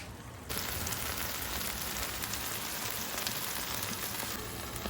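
Potatoes frying in a drizzle of oil on a Blackstone griddle make a steady, dense sizzle that holds at an even level throughout, close and unbroken, with no talking.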